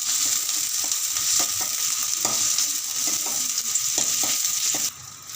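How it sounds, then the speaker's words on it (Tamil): Chopped onions sauté in a hot pan for a brinjal dish, a loud continuous sizzle with repeated scraping stirs of a spoon at an irregular rhythm, the frying cutting off abruptly near the end. "கட் பண்ணி வைக்கிற வெங்காயத்தை போட்டுக்கிறோம். வெங்காயத்தை நல்லா வதக்க வேண்டும்."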